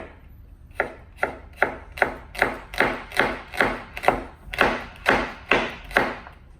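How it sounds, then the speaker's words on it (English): A knife cuts kohlrabi quarters into julienne strips on a cutting board, about fifteen evenly spaced close thuds in a steady rhythm, with no talk. "Then you just cut little strips or julienne pieces."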